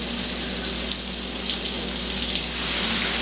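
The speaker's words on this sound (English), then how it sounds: "Okay, we're gonna put the onions in there now." Onions sizzling in a pan over medium heat for a diner-style patty melt: a steady, dense hiss and crackle with fine popping, close and continuous, with no talking.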